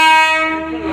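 A train horn blares in one loud, sustained, steady blast as a train pulls into a station, with no voices over it.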